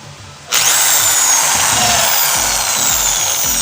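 A repaired electric drill switched on after a brief quiet moment and running loud and steady, a continuous high whine with a buzzing motor roar close by.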